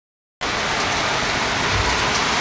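Rain falls steadily in a thunderstorm, starting abruptly after a brief silence and continuing as a loud, even roar of drops on surfaces, close and without speech.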